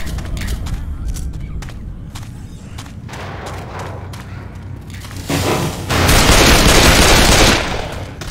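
Gunfire in the zombie shooter Left 4 Dead 2: rapid, rattling bursts of automatic fire run steadily throughout, swelling into a louder, denser barrage near the end.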